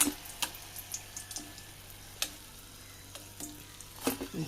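Iftar snacks frying in hot oil, a soft steady sizzle and bubbling with occasional light clinks of a slotted spoon against the pan, close and fairly quiet.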